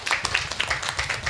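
Workshop audience clapping, a short burst of rapid, uneven hand claps from a small group in a room, moderately loud and steady throughout.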